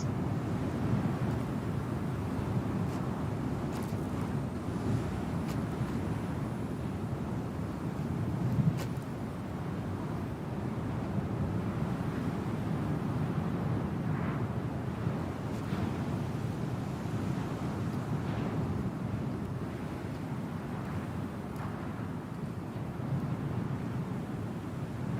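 Wind blows across an outdoor area in Star Citizen, a constant low, rushing roar that stays even and fairly loud from start to finish, with no talk over it.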